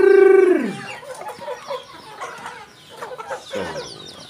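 Young Bangkok chickens clucking and squabbling at feeding time, a loud squawk opening into a busy mix of clucks and chatter from several birds nearby.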